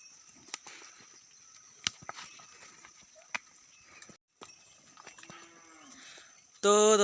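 Cows lowing as they are driven out to forest grazing land, with hoof clip-clops and scattered clicks over a rural outdoor ambience; a long, loud moo comes close at the end.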